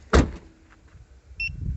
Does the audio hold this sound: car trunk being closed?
yes